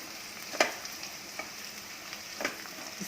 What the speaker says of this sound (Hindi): इसको स्टर करेंगे लगातार